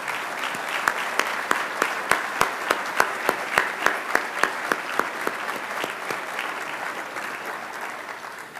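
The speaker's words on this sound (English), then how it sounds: "I would ask all of you to join me in giving them a round of applause and thanking them." A political gathering crowd applauds Republican legislators, with a steady wash of clapping and sharp rhythmic beats, as in unison clapping, that fade out toward the end.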